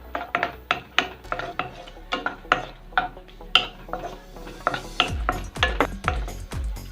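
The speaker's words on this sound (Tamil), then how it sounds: "தேங்காய் சேர்த்து கொஞ்சம் லைட்டாக வறுத்துக்கலாம்." Grated coconut lightly roasting in a pan for banana payasam, heard as a steady run of close, sharp scraping and clinking strokes of a spoon against the pan, quickening and getting heavier toward the end, with no voices.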